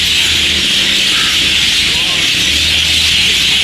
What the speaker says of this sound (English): That noise you can hear is birds.